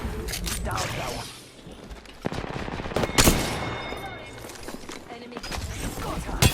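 Apex Legends firefight with bursts of automatic gunfire and single shots, loud and close, coming in uneven clusters with a short lull between them, and a voice talking over the shooting.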